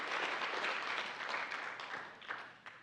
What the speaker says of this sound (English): A big round of applause again for our judges tonight.